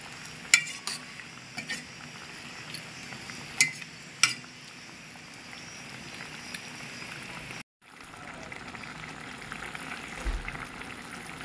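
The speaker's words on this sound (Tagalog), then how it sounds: "hayaan lang po natin na kumulo hanggang sa mabawasan yung sabaw" Chicken adobo with liver simmering in broth, a steady low bubbling with a few sharp clinks of a spoon stirring the pot near the start, a brief break, then continuous gentle simmering.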